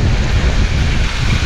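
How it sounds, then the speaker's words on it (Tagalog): Loud, strong wind roars continuously across the microphone, a dense blustery rush with no pauses and no voices. "Lakas ng hangin, no?"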